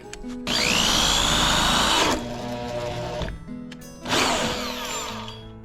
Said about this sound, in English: It did eventually drill the hole I needed.